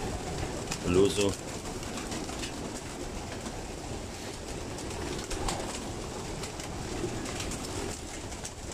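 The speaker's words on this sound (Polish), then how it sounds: "Tu mamy regały, gołąbki siedzą." Racing pigeons cooing softly in a loft lined with shelves, a low murmur buried in steady background noise, with a person talking over it.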